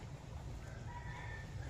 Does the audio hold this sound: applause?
no